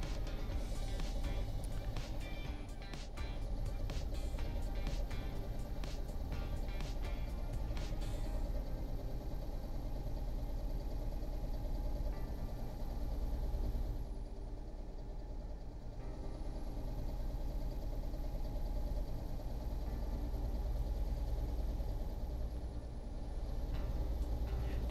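A truck engine in Euro Truck Simulator 2 drones steadily under acceleration with a faint high whistle running above it, a continuous loud rumble lasting throughout with no talk.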